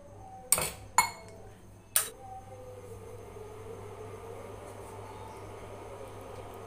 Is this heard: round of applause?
no